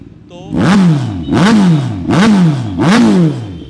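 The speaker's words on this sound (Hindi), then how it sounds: "एग्जॉस्ट की आवाज़ तो सुनानी बनती है ना बॉस" Kawasaki Ninja ZX6R with BS4 dual-side exhaust revved four times in a row, each loud, close blip rising sharply in pitch and then falling back toward idle.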